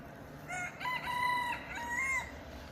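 Rooster crowing among penned chickens, one drawn-out cock-a-doodle-doo with tonal harmonics, moderately close and alone over quiet farmyard background.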